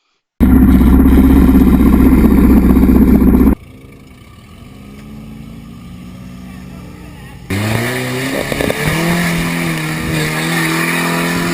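A 1988 Toyota 4Runner with a 22RE engine and solid axle swap tearing through muddy off-road trails: a loud close engine roar, a quieter stretch, then revving with climbing and falling pitch.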